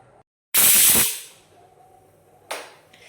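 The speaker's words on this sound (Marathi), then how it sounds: "पाच सहा सिट्ट्या झाल्या आहेत बहुतेक खूप जास्त शिट्ट्या" A sharp burst of hissing steam rushes out for about half a second and fades, followed by a second, briefer hiss.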